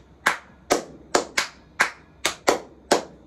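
Loud, sharp hand claps practiced by a percussion player, eight separate close claps spaced roughly evenly, each with a hard attack and short decay, nothing else heard.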